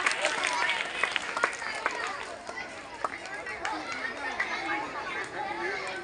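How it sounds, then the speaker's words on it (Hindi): Students and guests at a school Independence Day celebration clap loudly, a dense, sustained patter of many hands with sharp individual claps standing out, mixed with crowd chatter and voices. "जोरदार तालियां बेटा"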